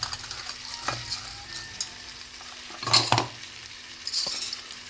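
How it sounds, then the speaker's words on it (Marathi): Uncooked rice being stirred into a pot of vegetable biryani with salt, turmeric and biryani masala, giving soft scraping stirs and a few sharper utensil knocks against the pot over a faint sizzle, with no talking. "मिक्स करून घ्यायचं चांगलं आता."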